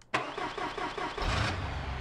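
A BeamNG Drive car fitted with a 383 crate motor, 4-barrel carburetor and exhaust cranks and fires up, settling into a loud, rumbling idle with a brief rise in revs near the end.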